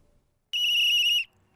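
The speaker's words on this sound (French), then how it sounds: "Ce coup de sifflet est un signal pour dire aux habitants de Gbagba qu'un véhicule poids lourd arrive" One sharp, piercing whistle blast warning villagers in Gbagba of an approaching heavy truck sounds for under a second, steady in pitch, then stops, with only faint background noise around it.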